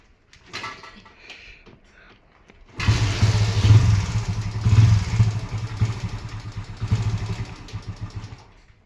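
A motorcycle engine starts and then revs hard and steadily while climbing uphill on a road toward Dzukou Valley in Nagaland, loud and close with fluctuating throttle, after a few seconds of quieter clatter.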